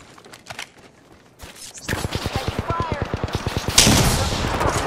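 Gunfire in Apex Legends: after a quieter start, a weapon fires a rapid, evenly spaced automatic burst of about twenty shots, close and loud, ending in a heavier blast, with brief game voice lines.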